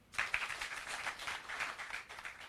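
A crowd applauds a former prime minister at a Kenyan political rally in Nakuru, a brief burst of brisk, dense clapping that rises quickly and continues steadily, heard somewhat distant.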